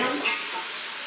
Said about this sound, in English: I'll go ahead and add these vegetables.